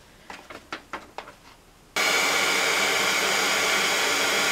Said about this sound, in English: The thing that's tricky about this is heat setting vellum, because it will melt really, really quickly.